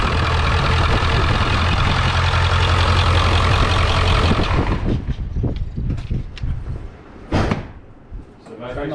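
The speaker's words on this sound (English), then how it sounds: "start the truck up, and the vibration should kick that clamp right off" A 7.3 Powerstroke diesel truck engine runs with a loud, steady low rumble for about four seconds, then cuts out, leaving scattered clanks, knocks and a sharp slam in a quieter space.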